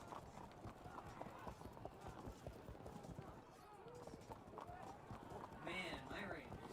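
Galloping hooves of Bedouin cavalry in the video game Field of Glory: Medieval, Battle of Arsuf scenario, clatter steadily throughout under near, continuous conversation.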